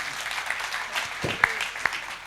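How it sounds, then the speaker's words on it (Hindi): Scattered hand clapping from an audience at a Hindi poetry recital (kavi sammelan) in Pitampur, Delhi, sparse, moderately close, with a few sharper individual claps standing out. "इस बात पर भी एक बार जोरदार तालियां बजनी चाहिए"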